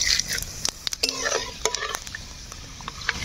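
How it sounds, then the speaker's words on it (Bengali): Bay leaf and a spoonful of five-spice sizzle in mustard oil in a karahi, a soft steady frying hiss with crackles and light clinks of stirring, close and fairly quiet. "কড়াই দিয়ে দিব সরিষার তেল, দিয়ে দিব তেজপাতা, আর দিয়ে দিব সঙ্গে 1 চামচের মতো পাঁচফোড়ন"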